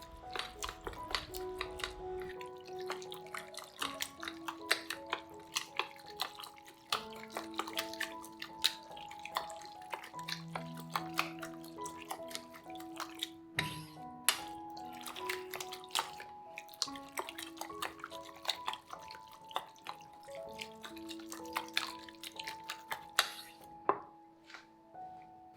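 Pork is whisked with sweet potato starch slurry in a bowl, producing a long run of brisk, repeated clacks and wet slaps close up, rhythmic and busy with faint ringing tones.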